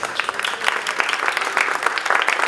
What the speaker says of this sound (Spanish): les pido un fuerte aplauso para la moderadora